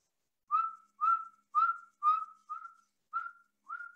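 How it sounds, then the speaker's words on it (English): Seven short, evenly spaced whistle notes, each a clean tone with a slight upward tail, sounded one after another by people in a group, clear and alone. "I want everybody who can whistle over there to go"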